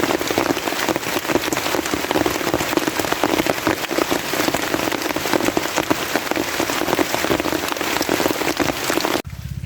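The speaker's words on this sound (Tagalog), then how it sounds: "patigilan na natin itong ulan" Heavy rain pours down continuously, a dense hiss of drops pattering on a surface, loud and unbroken until it cuts off abruptly at the end.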